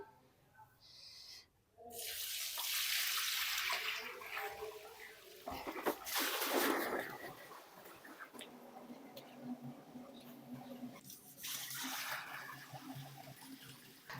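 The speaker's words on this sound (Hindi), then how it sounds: "हम 2-3 दफ़ा पानी डाल के इसको धोना है" Water pours and sloshes in a container close by as soaked grain for haleem is swirled and rinsed, in uneven bursts with brief pauses.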